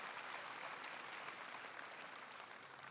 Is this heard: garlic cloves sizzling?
no